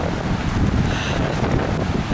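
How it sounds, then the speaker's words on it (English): A breezy wind buffets the microphone on the Indian Ocean shore, a loud, constant roar with a sea wash beneath it and no one talking. "a little breezy out here"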